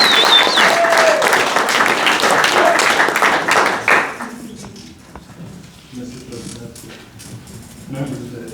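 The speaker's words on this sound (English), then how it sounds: "Please give a big round of applause, Toastmaster Chief Keith" Toastmasters audience at a Winter Park club meeting breaking into loud, dense applause for about four seconds, then fading to scattered claps and murmuring room noise with a brief voice near the end.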